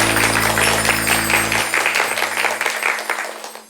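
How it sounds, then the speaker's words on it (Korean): Audience applause in a Korean TV lecture hall welcomes a psychiatrist speaker on character education, a dense steady clapping that carries through the whole stretch and tapers slightly at the end, with no talk over it. "박수로 청해 듣겠습니다"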